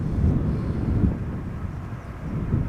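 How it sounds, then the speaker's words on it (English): A KLM Boeing 737-800 arriving at Schiphol from Edinburgh, a low, rumbling engine drone mixed with wind buffeting, steady and moderately loud, with no voices. "This is KLM flight 924 737-800 arriving from Edinburgh."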